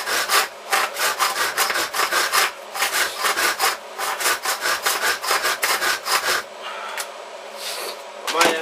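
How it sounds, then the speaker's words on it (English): A handsaw cuts aluminium for a pistol crossbow build in quick, evenly spaced rasping strokes, loud and close, until the sawing stops near the end. "There's not many cuts I can do now with a handsaw."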